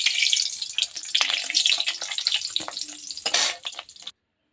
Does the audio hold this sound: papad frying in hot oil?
yes